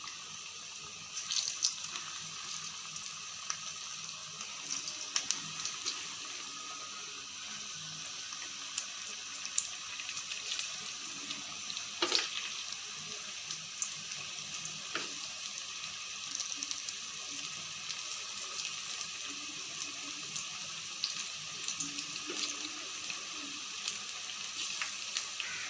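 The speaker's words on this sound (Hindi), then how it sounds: "घी हमारा गर्म हो चुका है। अब हम इसमें पकोड़े बनाएंगे।" Small pakoras frying in hot ghee in a kadhi pakora kitchen setup, a steady close crackling sizzle with faint pops running throughout, with no voices.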